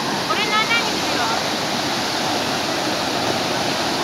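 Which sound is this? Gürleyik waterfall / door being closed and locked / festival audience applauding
Gürleyik waterfall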